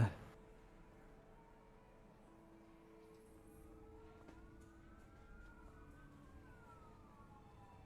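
A police siren in the video game A Way Out wails faintly in the distance, its pitch rising and falling slowly over a quiet background with a soft thump at the start.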